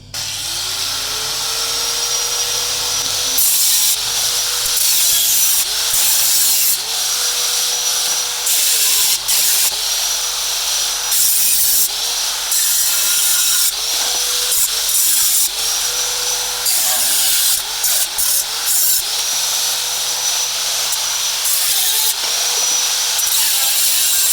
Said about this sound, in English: let's cut out this patch panel and make this damn thing